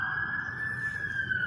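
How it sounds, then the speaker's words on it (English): A single police siren holds a steady high tone, running continuously with little rise or fall, over a low rumble in the background at night. "the sirens blazing in the night"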